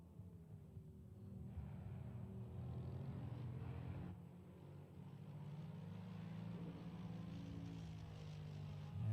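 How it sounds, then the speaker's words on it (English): Racing car engines in an online racing game at Zolder, Belgium drone and whine in the background, their pitch rising and falling as they rev, steady and moderately loud. "you can hear those cars now in the background"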